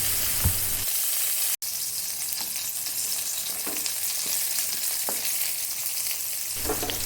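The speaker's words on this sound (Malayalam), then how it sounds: "വെളിച്ചെണ്ണയൊക്കെ ചൂടാക്കി കഴിയുമ്പോൾ നമുക്ക് ഇതിൽ ഓരോന്നായിട്ട് ഇതിട്ട് കൊടുക്കാം. ഇനിയൊന്ന് പൊള്ളിച്ചെടുക്കണം നമുക്ക്." Brinjal pieces fry in hot coconut oil with a continuous close sizzle and a few soft stirring scrapes; one abrupt brief dropout interrupts the frying sound early on.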